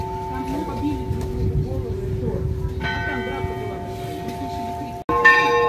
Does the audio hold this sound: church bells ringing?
yes